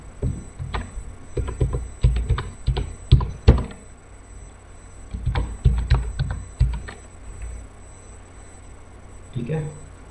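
Clusters of sharp keystrokes on a computer keyboard come in bursts while a PAN number and password are typed into an online income tax return form, close and moderately loud, with brief pauses between groups.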